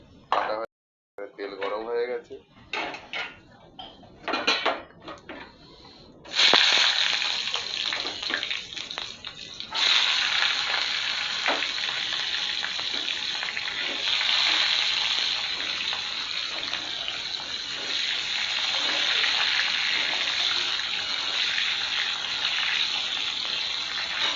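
Potato and eggplant fry in mustard oil tempered with bay leaf and whole cumin, a loud continuous sizzling hiss that runs on steadily after a few opening knocks and clatters, with a voice talking over it.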